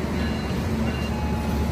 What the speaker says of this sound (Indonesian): Ini ada kereta masuk apa yo? Anggrek kayaknya.